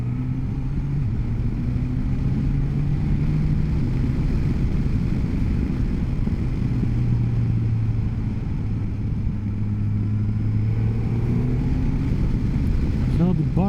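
A Suzuki GSX-S1000GX motorcycle rides through fast corners, its engine drone steady and close under continuous wind rush, with pitch rising and falling gently as it leans and accelerates. The rider talks throughout.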